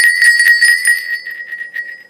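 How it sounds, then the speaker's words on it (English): A size 6 petal sleigh bell, modeled on old New England horse-drawn sleigh bells, jingles rapidly and brightly up close, its shaking slowing toward the end with no voices. "they look for these petal bells, they're called, because these little petals look like flower petals. This is a size 6 bell."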